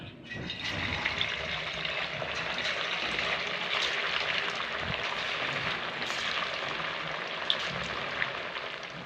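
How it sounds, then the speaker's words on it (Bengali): Semolina and potato bites frying in hot oil give a steady, dense sizzle with fine crackling that stays fairly loud and even throughout, with no voices. "এবার এগুলোকে এক এক করে তুলে নিয়ে তেলের মধ্যে খুব সুন্দর করে ভেজে নেব।"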